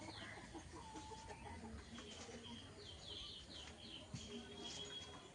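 Chickens kept in their coop on a wet day give faint clucks and chirps at a distance against a low hum of background noise.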